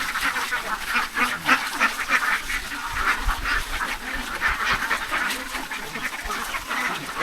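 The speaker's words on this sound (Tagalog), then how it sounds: "Ganun po yung behavior ng mga itik nila." Ducks at a newly built duck poultry farm in Santo Tomas, Davao del Norte, keep up a steady, dense chorus of quacking and chatter from a large flock, fairly close and continuous throughout.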